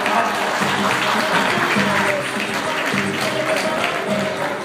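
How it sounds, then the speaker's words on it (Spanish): A theatre audience applauding, dense and loud clapping that carries on steadily from start to end, with crowd voices mixed in beneath it. "Y ese es el aplauso."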